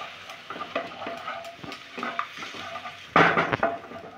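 Potol curry with poppy seed paste gets stirred in a pan, with a soft sizzle under irregular scrapes and clinks of a spatula against metal, ending in a louder scraping burst near the end.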